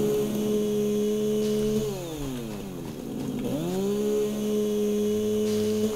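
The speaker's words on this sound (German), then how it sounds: "Kettensäge haben wir auch hier." A chainsaw in the video game Satisfactory cuts through foliage. The steady engine drone bogs down and revs in pitch through the middle of the cut, then settles back to a constant idle-like whine, loud and alone.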